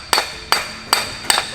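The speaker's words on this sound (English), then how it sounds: "thankfully I had a piece of pipe that's perfect. And I'll use this to guide the bearing in." Four evenly spaced metallic taps ring out as a piece of pipe drives a bearing onto its race during engine work, each strike bright and close with a short ringing tail.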